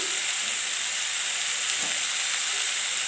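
Fish curry with ridge gourd sizzling steadily in a pan just after ground cumin goes in, a continuous close frying hiss with a faint stir near the end.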